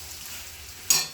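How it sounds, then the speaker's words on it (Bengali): Fried lentil dumplings (bori) drop into a sizzling mixed vegetable curry (pachmisali torkari). A steady soft sizzle gives way to a sudden louder hissing burst near the end, with no voices. "ভেজে রাখা বড়িগুলো দিয়ে দিচ্ছি।"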